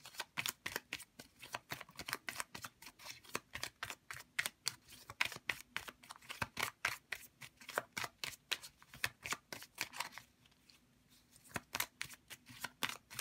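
Tarot cards being shuffled, a rapid run of crisp riffling flicks close up, pausing briefly near the end before resuming.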